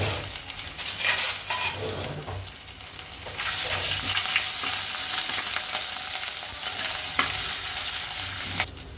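Ginger garlic paste sizzles in a pan, starting with stirring clatter before the frying swells to a louder, dense, steady hiss, with occasional spoon knocks against the pan.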